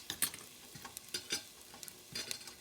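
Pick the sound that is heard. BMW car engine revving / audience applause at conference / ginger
ginger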